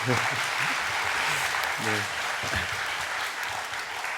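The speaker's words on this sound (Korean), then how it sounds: "우리 다시 한번 박수하겠습니다." A congregation at a Friday prayer meeting gives sustained applause that fills the room evenly, while a voice speaks briefly underneath.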